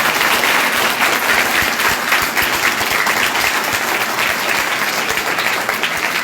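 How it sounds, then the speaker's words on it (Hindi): Loud, steady applause from a school audience at a civic program in Kota, continuous and close-sounding clapping with no break for several seconds. "जोरदार ताली बजाइए"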